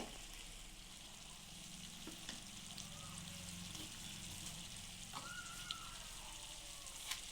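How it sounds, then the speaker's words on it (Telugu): Chicken cooking in oil in a covered pan for an old-style country chicken curry, giving a steady, even sizzle and hiss that runs throughout with a few small pops and no talking. "ఒక రెండు నిమిషాలు నూనెలో మగ్గనిద్దాము మూత పెట్టుకుందాము"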